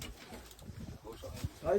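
A pigeon coos softly nearby in a brief, low murmur before a voice starts talking.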